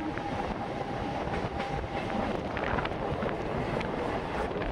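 A new EMU local train rolls into rural Khetia station between Katwa and Burdwan, a loud, steady rumble with faint rail clatter and wind buffeting, heard from on board.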